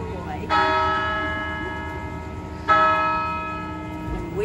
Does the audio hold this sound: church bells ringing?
yes